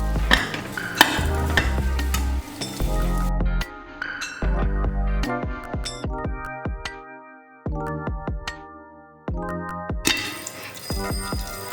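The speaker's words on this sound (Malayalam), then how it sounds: "അപ്പോൾ നമുക്ക് ഇങ്ങനെ പൊട്ടണ സൗണ്ട് കേട്ടുകൊണ്ടിരിക്കാം" Popcorn kernels popping in a covered pot on the stove, a dense run of sharp cracks and clinks that thins to scattered individual pops before building again, loud and close with no talk.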